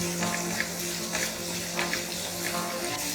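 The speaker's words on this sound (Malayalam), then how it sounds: "സവാള ഒന്ന് പിങ്ക് ആവുന്ന വരെ ഒന്ന് നമുക്ക് വഴറ്റിയെടുക്കാം" Sliced onions and green chilies sauté in a pan, giving a steady, moderately loud sizzling hiss with faint intermittent stirring ticks.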